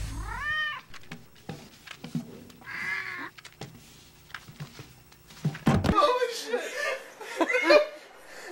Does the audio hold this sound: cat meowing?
yes